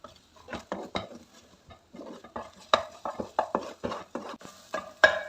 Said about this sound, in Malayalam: അത് കഴിഞ്ഞാൽ അത് നല്ല രീതിയിൽ നമുക്കൊന്ന് ഇളക്കി യോജിപ്പിക്കാം.